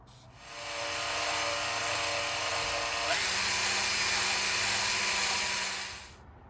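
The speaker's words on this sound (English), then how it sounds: "So I'm using some sandpaper out here." Steady broadband scraping of sandpaper on a Husqvarna FC450 motorcycle part, continuous and fairly loud for about six seconds with a shift in tone midway, no talk over it.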